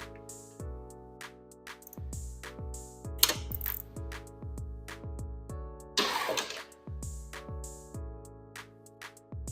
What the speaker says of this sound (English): we're going to start by just breaking our drain plug right here